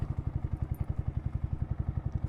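A Yamaha R15 150cc motorcycle engine runs on a road at night, giving a fast, even thudding pulse that holds steady at a moderate level for a couple of seconds.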